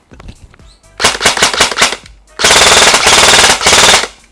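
Rapid full-auto bursts from an E&C 603S3 MK18 MOD1 electric airsoft gun: a few quick single shots, then two long, loud, rattling strings of fire with a short pause between.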